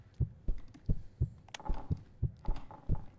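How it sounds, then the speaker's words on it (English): A steady game heartbeat thumps in double pulses at a regular rhythm, nine beats in about three seconds, inside a horror video game, fairly loud over a faint ambient hum and occasional clicks. "the heartbeat's coming from over here"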